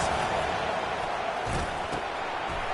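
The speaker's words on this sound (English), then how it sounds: "Listen to this crowd just shaking the girders of this place, trying to help their defense." Large football stadium crowd roaring to support the home defense, a dense continuous wall of cheering and noise heard from within the stands, steady and loud throughout.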